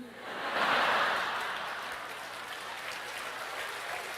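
A church congregation at an evening prayer service breaks into a brief swell of clapping that peaks early, then fades into a softer, steady murmur of hands.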